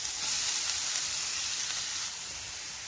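Grated carrot sizzles in hot ghee in a pan, a bright steady frying hiss heard up close and alone, easing slightly toward the end.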